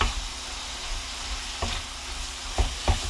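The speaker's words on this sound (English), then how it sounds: "I'm going to add my mushrooms as well too" Mushrooms and pork for egg rolls frying in a pan, a constant sizzle broken by several sharp spatula scrapes and clunks as the mixture is stirred, the strongest knocks coming in the last second.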